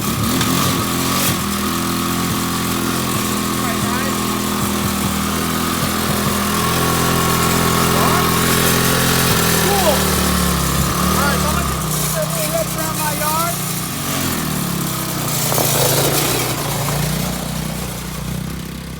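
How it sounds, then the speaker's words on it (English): A 1986 Honda ATC 200X three-wheeler runs with a loud, steady small-engine drone that rises and falls slightly as the throttle changes, close and continuous throughout. "So I'm gonna fire it up, and I'm gonna show that the light works, and I'll take it for a little rip."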